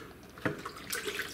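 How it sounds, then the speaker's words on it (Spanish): Water is poured into a thick salsa verde in a pan, a soft splashing trickle with light gurgles, fairly quiet and close, without talk. "Si su salsa está espesa, le agregan un poco de agua."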